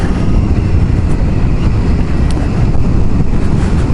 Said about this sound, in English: doing a live ride review of the Triumph Street Triple R, and we're riding it now